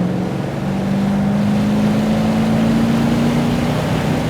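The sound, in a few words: Chevrolet Corvette C6 V8 dual-mode exhaust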